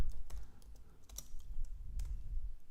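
Typing on a computer keyboard while entering a yoga pose name, irregular quiet key clicks and taps in short bursts, close and alone with no talking.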